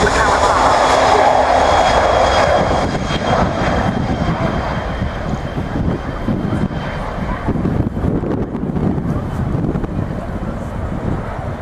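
A Kawasaki P-1 four-jet maritime patrol aircraft of the Japanese Maritime Self-Defense Force roars loudly as it takes off at an air show, its sustained jet noise close and steady with wind buffeting the microphone.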